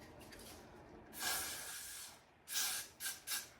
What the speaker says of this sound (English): Put a little extra Xrsbeauty spray on there.